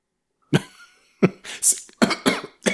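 Several coughs in quick succession: one, a pause, then a cluster of harsh, close coughs, some with a throaty rasp.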